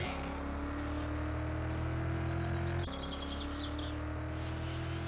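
GNX car engine in the 7 Days to Die game with a vehicle mod, a steady low droning hum held loud and constant throughout while driving, with a brief dip near the middle.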